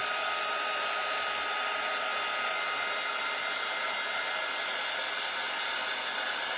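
A heat tool blows hot air in a steady, loud, unbroken whoosh to dry a craft piece on a work mat, holding an even roar with no talk.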